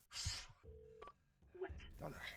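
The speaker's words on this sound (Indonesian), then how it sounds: "Paul kemudian menelpon Donna lagi dan meminta maaf." Telephone keypad tones sound as a number is dialed in the film Buried, a few short beeps sitting between bursts of noise and a voice.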